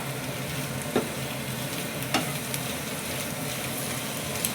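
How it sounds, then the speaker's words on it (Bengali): Egg bhujia fries in a pan with a steady, dense sizzle close by, broken by two or three light spatula taps, with no talking over it. "শুধু একটু লাল করে ভেজে নেব"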